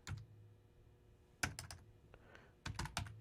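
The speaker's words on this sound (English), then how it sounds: "I'm going to type configure" Typing on a computer keyboard while entering network switch commands: a few quick clusters of crisp key clicks separated by pauses, close and quiet with no talking.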